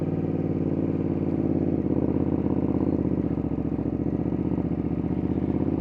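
A Ducati Panigale V2 S motorcycle with a full titanium race exhaust idles with a deep, throbbing exhaust note, steady and close throughout.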